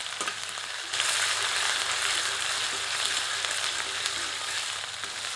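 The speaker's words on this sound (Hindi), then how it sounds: "इसमें कूटे गए अदरक और लहसुन को सम्मिलित करते हैं। मध्यम आंच पर इसे 2 मिनट भूनते हैं।" Crushed ginger and garlic frying on a medium flame, a bright, continuous sizzle that swells up sharply after a quieter opening and then holds loud and steady with light stirring.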